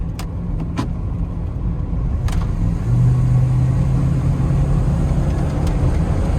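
A 1994 Ford XLT truck engine driving along at a steady mid-pitched hum, with a gear shift and a rising tone as it pulls, plus a few faint clicks, with no voices.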